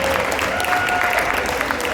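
An audience applauds at a prize-giving ceremony, with dense, steady clapping that fills the whole stretch at close range and a faint tone running underneath.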